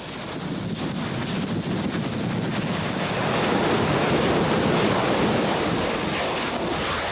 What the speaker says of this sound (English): Heavy surf pounding against the growing shoreline may shatter and tear the Pahoehoe as it emerges from tubes in the tidal zone.